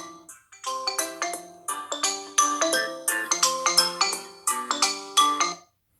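A Xiaomi Redmi 5 Plus in blue plays a bright melodic ringtone through its loudspeaker, a repeating pattern of clear chiming tones that comes through loud and close for about five seconds and then stops.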